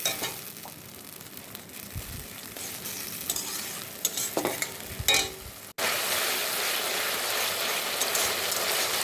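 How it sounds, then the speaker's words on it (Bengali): Onions and a ground spice paste fry in a pan while being stirred, a steady close sizzle with scraping stir strokes that swells into a dense, continuous hiss in the second half. "মশলাটা ভালো করে কষাবে যতক্ষণ না মশলা থেকে তেল ছেড়ে যায়"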